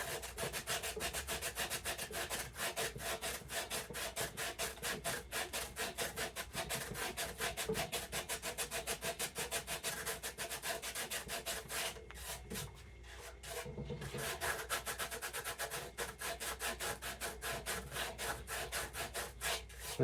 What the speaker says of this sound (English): and then I'll come in with some sandpaper